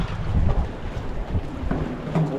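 Wind blows over open sea around a fishing boat, a steady rushing roar buffeting the microphone, with low rumbles and no voices.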